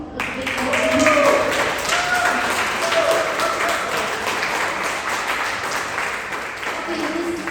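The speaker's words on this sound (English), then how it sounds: "Give all of you a big applause." A seated group at a leadership development session breaks into sustained applause, dense and fairly loud, swelling slightly near the start and then holding steady to the end.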